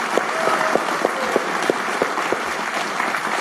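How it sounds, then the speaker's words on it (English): Audience at a Fidelity event honouring Peter Lynch claps loudly, a dense burst of applause with a few sharper individual claps standing out, brief and close. "How about a round of applause for Peter Lynch, ladies and gentlemen?"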